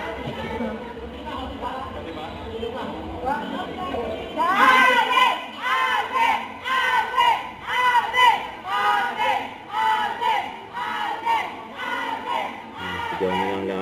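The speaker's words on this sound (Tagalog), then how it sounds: "Sigaw nilang lahat, Alden." A large crowd of fans shouts in rhythmic unison, a loud chanting surge of voices that rises about a third of the way in and repeats in regular bursts over background chatter.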